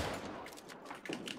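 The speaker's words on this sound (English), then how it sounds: "They have cannons inside that they're shooting." Cannons firing in a war video game, a brief rapid burst of muffled booms and crackling shots heard at a distance.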